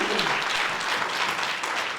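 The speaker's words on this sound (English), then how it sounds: "a nice round of applause?" Sustained applause fills a regional ANC party meeting, the clapping of a large crowd steady and loud throughout, honouring the Namakwa region for its municipal election victory.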